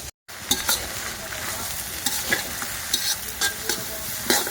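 Meat curry with plenty of onion and ginger sizzles in a pan on a stove while being stirred, giving a constant frying hiss punctuated by scraping stirs, close and clear with no talk.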